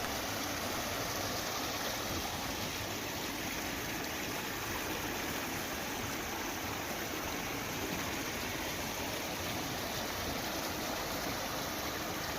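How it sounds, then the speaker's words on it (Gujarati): Floodwater rushes through streams in Lalukа village, Gujarat, after heavy monsoon rain: a constant, dense roar of flowing water that stays even and unbroken, with no voices. "લાલુકા ગામમાં ધોધમાર વરસાદ વરસ્યો નદી નાળામાં પાણી વહેતા થયા છે"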